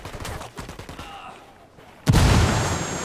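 Gunfire in the shooter game Ghost Recon Wildlands, with scattered shots and explosions early on, then a sudden loud, sustained burst of firing and blast noise that dominates the final second.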